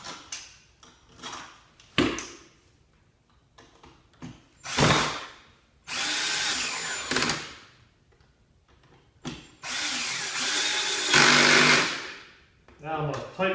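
An electric screw gun with its torque adjusted drives screws into the plastic housing of an Earthwise SN70010 10-inch 9-amp electric snow thrower, in several short whirring bursts of a few seconds each, separated by quieter pauses.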